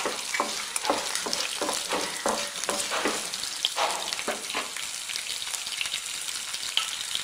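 Crushed garlic fries in hot oil with a continuous bright sizzle, punctuated by rhythmic scraping stirs of a spoon against the pan, with no voices.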